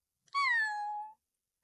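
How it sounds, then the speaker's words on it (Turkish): A single clear cat meow, close and fairly quiet, rising then sliding down in pitch and lasting under a second, with silence around it. "Ve bolca kedi var."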